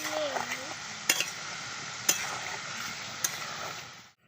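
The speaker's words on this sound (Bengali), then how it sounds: "দেখুন আমার সব নিমকিগুলো কত সুন্দর ভাজা হয়েছে" Nimki, a Bengali fried snack, frying in hot oil: a steady, close sizzle throughout, punctuated by three sharp clinks of a utensil stirring the pan, fading out at the end.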